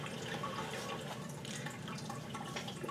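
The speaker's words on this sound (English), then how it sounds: "If you hear that running water, it's been in a few of my videos. It's my fish filter." Running water from a fish tank filter indoors: a steady, continuous trickling and splashing with faint drip-like flecks, constant in level throughout, no voices.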